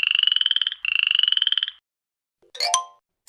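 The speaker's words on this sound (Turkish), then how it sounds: "kurbağa" A frog croaks in two rapid, pulsing trills, each lasting about a second and sounding close by, followed by a short, sharp higher call after a pause.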